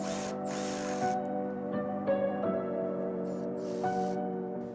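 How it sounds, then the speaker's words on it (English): A hand ratchet fitted with a 15mm socket turns an exhaust clamp bolt on a 2015-2020 Ford Mustang EcoBoost 2.3L, giving a few close, quiet clicking bursts over a steady background hum. "you're going to use the 15mm socket"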